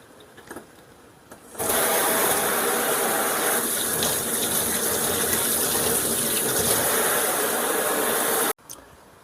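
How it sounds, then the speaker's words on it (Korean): Tap water runs hard over beef brisket being rinsed, a loud, steady gushing that starts abruptly, continues for about seven seconds and then cuts off, close by with no talking. "양지는 이렇게 흐르는 물에 씻어서 이제 용기에 다 넣고요"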